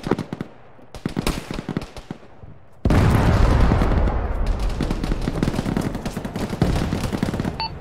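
Explosive charges detonate in the Arma 3 military game: scattered sharp gunshot cracks give way to a loud, sustained blast and rumbling roar that stays dense and heavy for several seconds.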